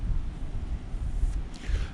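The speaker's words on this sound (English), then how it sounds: "It is quite windy." Strong wind buffeting a microphone outdoors during a snowy Iowa shotgun deer hunt, gusty low rumbling roar in uneven surges, close and loud with no talk.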